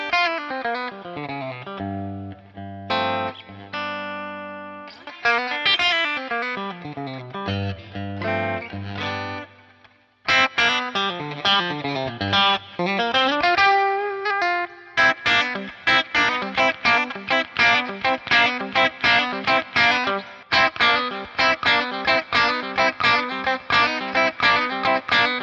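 A PRS SE electric guitar played through distortion with chorus-like effects, strummed chords and riffs ringing out alone in a steady, rhythmic stretch with a brief pause midway.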